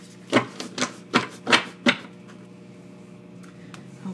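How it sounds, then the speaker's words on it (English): Tarot cards shuffled quickly by hand, five brisk riffling bursts in a row up close, then a softer rustle as the deck settles, with no talking. "I'm just going to do one quick shuffle"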